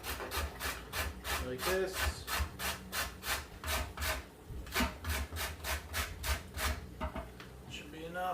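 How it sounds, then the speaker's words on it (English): A carrot is grated on a cheese grater in quick, rhythmic rasping strokes, about two per second, close and fairly loud, with a brief spoken remark partway through. "So we're just going to grate our carrot on a cheese grater"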